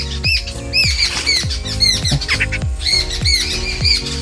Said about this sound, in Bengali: সামনে ওর মাগুলো চিল্লাচ্ছে শিকার করছে